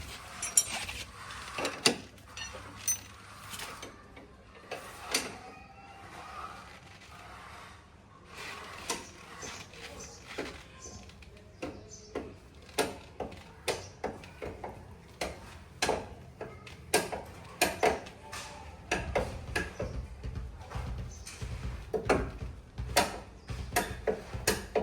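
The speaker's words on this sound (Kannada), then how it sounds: "ಈ ಸ್ಲಾಟಿಗೆ ಹಾಕ್ಕೊಂಡು ಜಾಕ್ನ ಲಿಫ್ಟ್ ಮಾಡ್ಕೊಳ್ಳಿ" A car jack is cranked up under a Hyundai Creta, giving a long run of sharp ratcheting clicks and metallic ticks over quiet room noise, steady at first and growing denser and louder toward the end.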